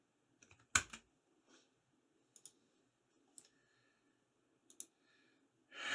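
Keys on a Razer Huntsman Mini keyboard are pressed in a few sparse, crisp clicks, one sharp louder press among scattered lighter taps, close and quiet, with a soft breath at the end.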